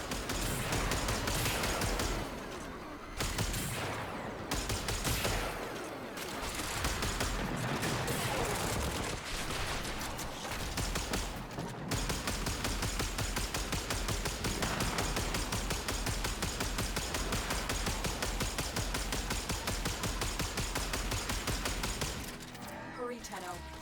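Sustained gunfire at an exposed core in a shooter video game: rapid, continuous volleys of shots roar for over twenty seconds with brief pauses early on, loud and dense, with a voice speaking at times.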